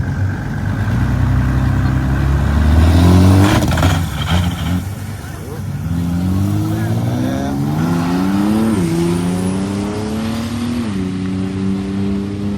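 A very quick, unusual Mercedes-Benz race car roars close by, its engine revving hard and then sweeping through rising and falling pitch as it passes and pulls away, with a voice talking over it.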